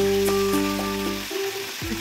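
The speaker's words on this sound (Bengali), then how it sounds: "এখানে সব শেষে মাছের মাথাগুলোকেও ভেজে নিচ্ছি" Fish heads frying in hot oil in a wok, a steady loud sizzle with a few clinks of a utensil against the pan, the frying dropping off briefly near the end before resuming.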